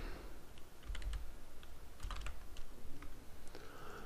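Keys on a computer keyboard tapped while a title is typed in editing software: irregular, close clicks in short clusters with brief pauses, no voices.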